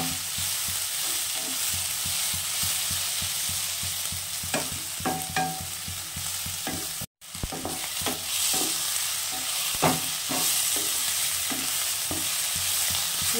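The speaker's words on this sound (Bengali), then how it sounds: "চিনি দিয়ে একটু ভাজা ভাজা করবো।" Grated radish and shrimp fry with a little sugar in oil, a steady sizzle and hiss running throughout, with repeated scraping stirs of a spatula in the pan close by.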